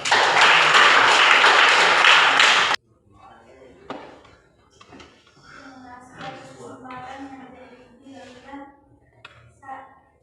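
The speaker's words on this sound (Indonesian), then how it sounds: "Oke, kita tepuk tangan dulu." A group applauds after a class presentation at a Catholic religious teacher training session, with a loud, dense burst of clapping lasting under three seconds that stops abruptly, followed by quieter talking.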